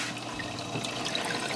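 Water pumped through the small spouts of an AeroGarden Bounty Basic indoor garden, a steady close trickling and splashing flow running continuously without pause.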